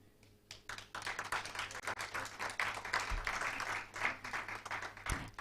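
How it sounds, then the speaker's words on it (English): Guests at an awards ceremony and digital activism report launch clap together, a dense, steady wave of applause building after a soft start and holding at moderate volume, with a few sharper claps standing out near the end. "I'll kindly request our guests for the day to stand as we clap for them."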